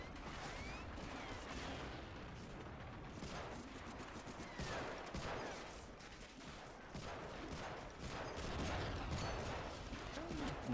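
Continuous gunfire and bursts of shooting from the WWII shooter Medal of Honor: Frontline on PS2, a dense, loud barrage of rapid shots running through the whole stretch with no pauses.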